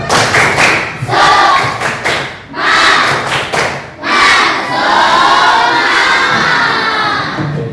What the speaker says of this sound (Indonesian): agar kita tetap semangat, tepuk semangat.